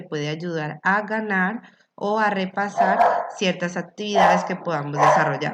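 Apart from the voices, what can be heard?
neighbour's dog barking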